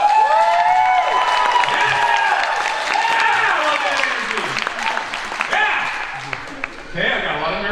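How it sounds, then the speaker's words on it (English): A crowd at the Baker Creek seed expo applauds and cheers with whoops and shouts while a host speaks over the noise, which fades toward the end. "Let's hear some applause"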